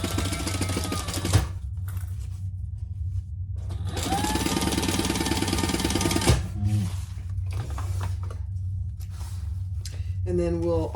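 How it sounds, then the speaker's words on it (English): A sewing machine runs in bursts while sewing a chain stitch on a messenger bag, a fast even mechanical whirr starting and stopping a few times, close up, with a person talking in the pauses. "I'm just going to pull this around and do a little chain stitch there."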